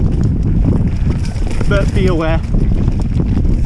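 Strong wind buffets the microphone on a blue-graded multi-use mountain bike trail with technical downhill sections in Serra da Arrábida, a loud steady rumble throughout as someone speaks briefly over it.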